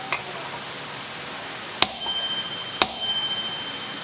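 Two sharp, loud hammer whacks on a motorcycle bearing, spaced about a second apart, each ringing briefly against a quiet workshop background, with no talking.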